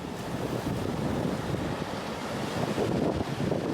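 Wind buffets the microphone over the rolling wash of rough sea waves off northern Peru. A short, loud, continuous roar with no voices.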